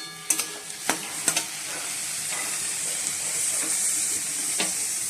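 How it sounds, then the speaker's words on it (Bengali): Onions fry in a pan with a tomato added for a mutton curry, giving a steady sizzling hiss punctuated by a few sharp stirring clinks and scrapes near the start, close and fairly quiet. "পেঁয়াজটা একটু লাল লাল করে ভেজে নিয়ে টমেটো দিয়ে দিয়েছি"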